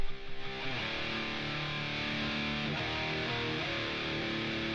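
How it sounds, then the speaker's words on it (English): Two layered distorted electric guitar tracks from a metal song play back as a recording, with a dense, sustained chugging tone at steady loudness and no voices. "And then I've done 2 guitars. So let's hear those."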